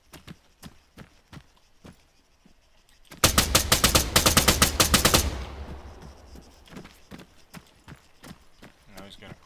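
An MX-LMG light machine gun in the Arma 3 video game fires a loud, rapid sustained burst of about two seconds mid-clip, while soft footstep-like taps and movement sounds come before and after it.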